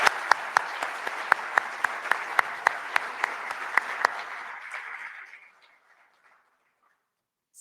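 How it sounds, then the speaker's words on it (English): A crowd applauds honored volunteers at a care awards evening, with steady clapping and a few sharp nearby claps, fading out after about five seconds into silence. "So let's give them one more round of applause."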